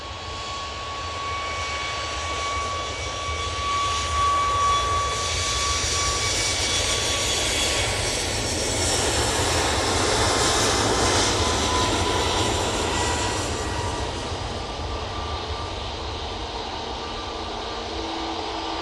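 Etihad jet airliner on final approach at Manchester Airport, a steady broad engine roar that swells toward the middle and stays loud throughout, with a sustained whine above it and no voices.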